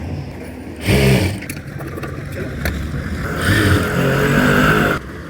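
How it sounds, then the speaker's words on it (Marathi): A sewing machine stitches folded kurti fabric in short motor bursts, a loud whirring run near the start and another longer run toward the end, close up with no speech. "आता हे जे आहे ते फोल्ड करून घेऊ आणि इकडे स्टिचिंग करून घेऊ"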